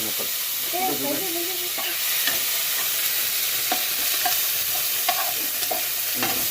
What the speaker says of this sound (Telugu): ఇక్కడ టమాటా కొన్ని టమాటా ముక్కలు వేసిన